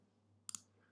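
A mouse clicks twice in quick succession, crisp and close against a faint electrical hum in a quiet room.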